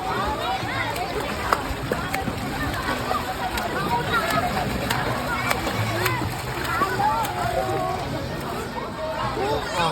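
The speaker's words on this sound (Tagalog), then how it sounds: "Wag mo ampahin yung tubig, dandahan lang." Water splashes and sloshes in a swimming pool during a children's swimming lesson, with steady, close splashing throughout and voices in the background.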